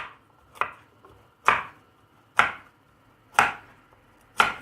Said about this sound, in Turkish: Havuçlarımı doğruyorum burada. Çok iri iri.